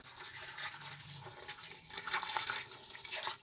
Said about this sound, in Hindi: तो अभी इसके अंदर पानी ऐड करने लगा हूँ।